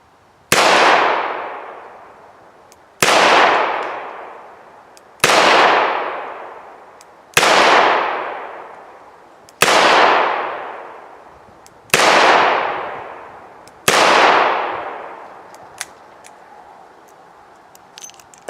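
A Ruger GP100 seven-shot .357 Magnum revolver fires seven loud, sharp shots close by, spaced about two seconds apart, each one ringing out and fading before the next.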